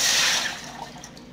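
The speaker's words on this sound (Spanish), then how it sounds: "Le voy a verter una taza de agua." A cup of water is poured into a jug while cooking, a short splashing gush that is loudest at the start and fades into a few trailing drips.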